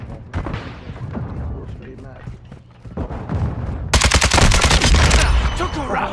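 Rapid automatic gunfire from a Call of Duty multiplayer match bursts out loudly for over a second amid other game sounds, while a player talks over the action.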